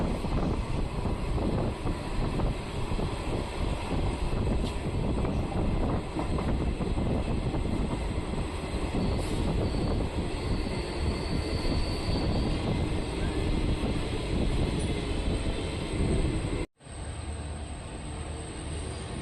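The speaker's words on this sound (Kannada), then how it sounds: "ಎರಡು ನಿಮಿಷ ಸ್ಟಾಪ್ ನಂತರ ನಮ್ಮ ಟ್ರೈನ್ ತರೀಕೆರೆಯಿಂದ ಹೊರಟಿದೆ" A train pulls out of Tarikere railway station after a two-minute stop, heard from on board as a loud, continuous rumble and rush of wheels and wind, cut by a sudden brief dropout near the end.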